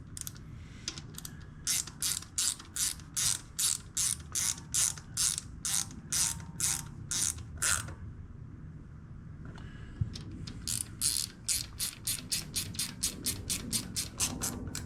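A 1/4 inch ratchet tightens a fastener on a 2008 Harley-Davidson Sportster 883, giving close crisp rapid clicking in two bursts of even strokes separated by a short pause.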